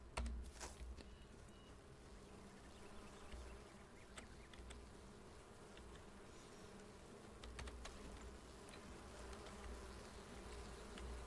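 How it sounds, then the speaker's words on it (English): A swarm of bees in the game Enshrouded drones in a steady, dense buzz throughout, with faint clicks and ticks scattered over it and no talk. "Swarming bees, not great."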